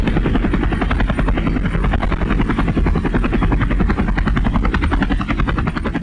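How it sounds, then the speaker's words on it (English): A helicopter's rotor beats in a steady, fast thudding rhythm, loud and close throughout, with the engine droning underneath and no voices. "let's get you on the chopper."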